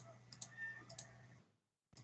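A couple of quiet, crisp computer mouse right-clicks sound close up against a soft background hum, brief sharp ticks separated by a short pause.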